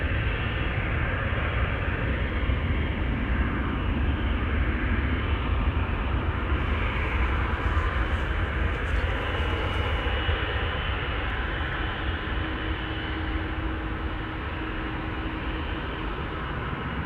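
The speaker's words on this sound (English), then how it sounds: "Also have the 777-200 to Johannesburg that you might pick up on the mic" A Boeing 777-200 airliner bound for Johannesburg passing near Schiphol airport, a distant broadband jet rumble and rush that holds steady and then slowly fades, heard alone with no voices.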